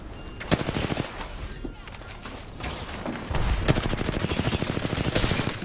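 Video game gunfire crackles in loud, rapid bursts, with dense strings of sharp shots and a short lull before the firing picks up again.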